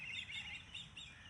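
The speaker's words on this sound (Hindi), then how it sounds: "चिड़िया चहचहा रही हैं" Birds chirp and tweet continuously, several high calls overlapping in a steady chorus at moderate distance with no talking.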